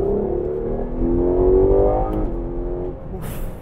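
A Ferrari 12Cilindri accelerates, its engine pitch rising steadily in one close, loud pull before easing off.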